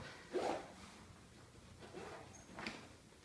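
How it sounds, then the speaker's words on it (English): A zipper closing a toiletry bag, a quick rasping pull near the start, close and fairly soft, followed by a few faint rustles and a second brief scrape in a quiet room. "zip it up"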